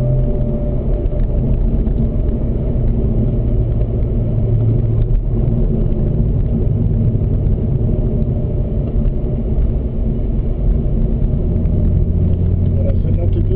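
Corvette ZR1 race cars cruise in fourth gear on the Spring Mountain track, giving a loud, continuous low engine rumble that holds steady throughout with no distinct revs.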